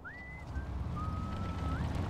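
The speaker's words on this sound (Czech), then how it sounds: "Přestaň s tím pohvizdováním, dohání mě šílenství." A soldier in the World War II game Hidden and Dangerous 2 whistles a wartime tune, long clear sustained notes with a few pitch glides, heard over wind and low background rumble.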